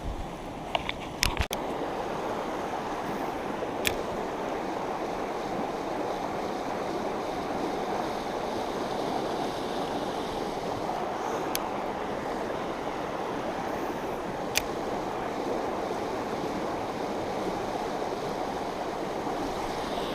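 Creek water flowing steadily nearby, a constant broadband rush with no pauses, broken by a few sharp clicks and knocks, fairly quiet overall.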